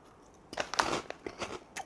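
A crispy potato chip snack from a Taiwanese convenience store is bitten into up close, giving a cluster of sharp crunches followed by a few lighter chewing crackles, with no talking.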